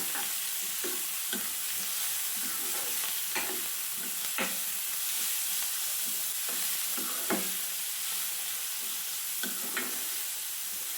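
Tomato, curry leaves and coriander leaves frying in a pan, a dense continuous sizzle with a regular series of stirring scrapes and clacks roughly every second, close and loud with no voices.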